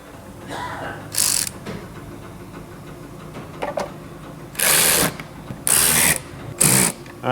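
A ratchet wrench tightens the two 7mm bolts on a car's fuel filler assembly in several short, loud bursts of rapid clicking, with softer handling noises between them.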